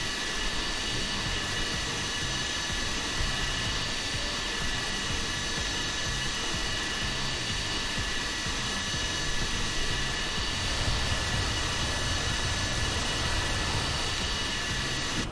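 Steady, even roar of USAF C-17 jet engines in Microsoft Flight Simulator 2020, a constant broadband drone with a faint high whine, unchanging for the whole stretch with no voices.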